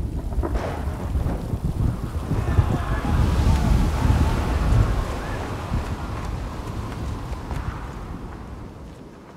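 A thunderstorm with heavy, broadband rumbling thunder, steady rain and gusting wind, loud and continuous throughout with no voices, easing slightly toward the end.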